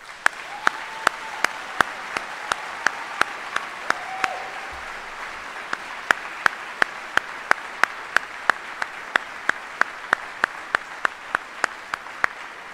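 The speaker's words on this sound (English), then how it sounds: "please join me in a round of applause for these 32 soldiers" Steady applause from an audience at a Department of the Army retirement ceremony, honoring 32 retiring soldiers; a dense, even wash of clapping with sharp, regularly spaced claps standing out throughout.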